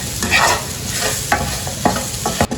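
Raw mango pickle cooks in a pan while being stirred: a continuous soft sizzle broken by a few sharper scraping strokes of the spoon, close up and without talk.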